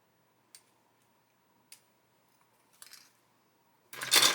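A plastic Willys Jeep chassis from a Takom/Meng kit is snipped off its sprue, giving a few sharp isolated clicks and cuts spaced out in quiet, ending in a louder burst of handling.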